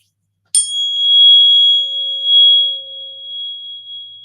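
A struck tuning fork rings out with a sharp metallic onset, then settles into a pure, steady sustained tone that slowly fades over several seconds, heard alone with no talking.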